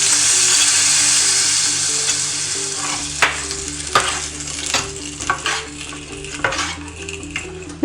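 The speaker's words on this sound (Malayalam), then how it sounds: "നമുക്ക് കടുക് വറുത്തത് ഇതിലേക്ക് ഒഴിച്ച് കൊടുക്കാം." Fried mustard seed tempering poured into mango pulissery for a sadya, giving a loud, dense sizzle that fades and is then broken by several clinks and scrapes of pans and utensils.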